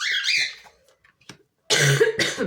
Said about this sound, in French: J'essaye de pas tousser, c'est pas évident.